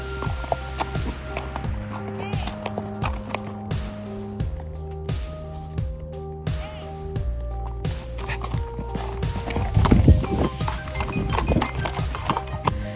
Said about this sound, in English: That horse sprinting in the other direction sells that theory for me.